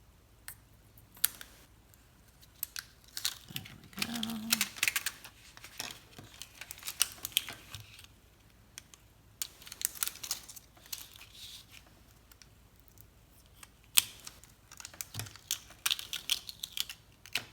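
A pointed crafting pick scratches, picks and peels away cut vinyl while weeding an acetate birthday card, giving quiet, close, irregular clicks and crinkles in scattered bursts.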